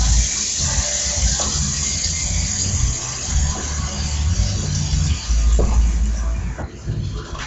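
Tap water pours steadily into a brew pot being filled with 2.5 gallons for steeping grains, a continuous close rushing splash that shifts slightly in tone as it runs, with no voices.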